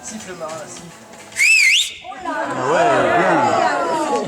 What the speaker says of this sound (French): J'ai sifflé comme ça.